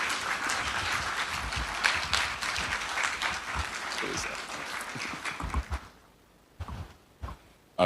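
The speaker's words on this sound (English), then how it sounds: "We're not stopping clapping until he gets here." A summit audience claps together as a professor walks up to the stage, a dense, lively wash of applause that holds for several seconds, then thins to a few scattered claps and knocks.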